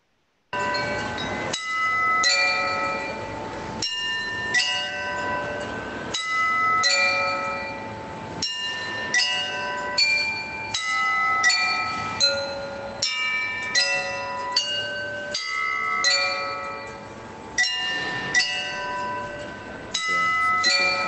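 Glass-like notes ring out as a crystal bell installation is struck again and again, each bright chime sounding clearly and ringing briefly before the next, in an uneven rhythm of roughly one or two strikes per second.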